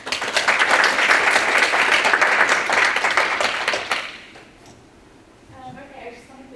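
A conference audience breaks into loud, dense applause that holds for about four seconds and then stops abruptly, leaving a quiet room with faint murmuring and a brief voice at the end.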